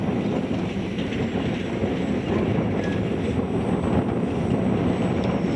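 HobbyKing Messerschmitt 109 EPP foam combat planes fly overhead in an RC dogfight, their electric motors a steady, continuous drone with a broad rushing wash throughout, fairly loud and unbroken.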